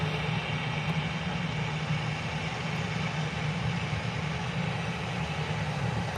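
An EasyJet airliner lands at Birmingham airport, a steady, fairly faint broadband engine roar at a distance that holds constant without clear peaks, with no talking.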